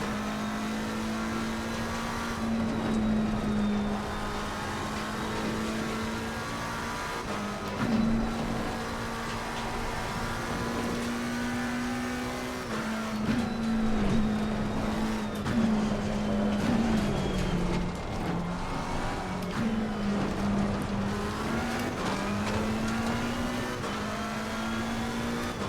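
The old McLaren race car's engine in a racing video game drones steadily throughout, its pitch rising and dropping with gear changes and revs across the lap, loud and continuous with no talking.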